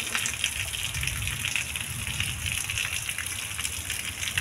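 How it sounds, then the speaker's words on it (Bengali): Heavy rain pours down steadily outdoors in a dense, continuous roar of drops that stays loud and even throughout, with no voices. "দেখো কত জোরে বৃষ্টি হচ্ছে"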